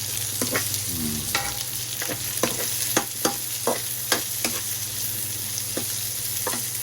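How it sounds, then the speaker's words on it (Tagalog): Onion dropped into a pan of frying garlic, with a steady loud sizzle and a series of sharp scraping and tapping stirs at irregular intervals, no talking. "So, ilagay na natin itong sibuyas."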